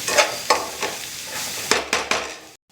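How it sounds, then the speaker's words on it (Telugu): A spoon scrapes and taps through spiced egg filling with turmeric, salt, garam masala, cumin powder and chilli in a pan, several close, scattered strokes over a soft sizzle that cuts off abruptly at the end. "మంచి గలబెట్టుకోవాలి"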